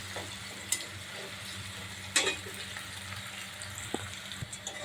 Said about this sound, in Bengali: পেঁয়াজটা লাল লাল করে ভেজে তুলে নেব।